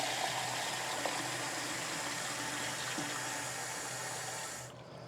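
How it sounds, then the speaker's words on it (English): Tap water runs steadily into a container for an Instant Pot in a home kitchen, a continuous close hiss that cuts off abruptly just before the end. "I'm just going to leave the camera sit right there and fill up this water."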